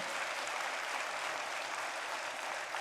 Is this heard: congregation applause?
yes